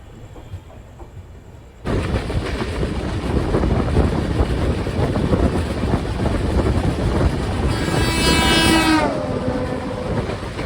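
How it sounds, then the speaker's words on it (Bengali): Black Diamond Express train departing Bandel Junction station. After a quiet start, a loud, steady rolling rumble of wheels and carriages begins, and a long horn blast sounds near the end. No voices. "ছেড়ে দিল আমাদের ট্রেনটি ব্যান্ডেল জংশন রেলওয়ে স্টেশন থেকে"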